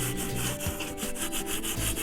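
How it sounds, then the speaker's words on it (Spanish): Sandpaper rubs back and forth in a steady, rhythmic scrape over a still-damp cement flowerpot with a stone-effect finish, each stroke close and distinct with no talking. "Simplemente con lija vamos despacio porque aún no está completamente seco."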